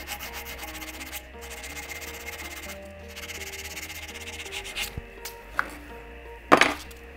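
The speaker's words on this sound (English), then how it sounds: "This file is a little bit finer. and then a little bit of used emery cloth." A fine file, followed by used emery cloth, works a metal part for custom bicycle U-brakes, giving steady rasping strokes up close, each stroke ending in brief clinks and scrapes, with no voices.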